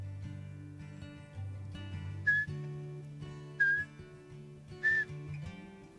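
A person whistles in imitation of a Eurasian pygmy owl in the Vosges wild, giving three short, clear whistled notes spaced evenly over a steady low background hum.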